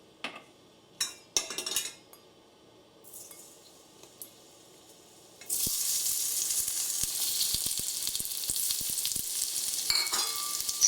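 Potatoes added to hot oil in a pan during a Bengali lentil-and-rice khichuri cook, first a few clinks of utensils, then a steady close sizzle and crackle of frying that carries on to the end with occasional stirring scrapes.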